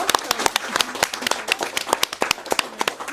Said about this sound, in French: Nous allons, je pense, applaudir et remercier nos intervenants.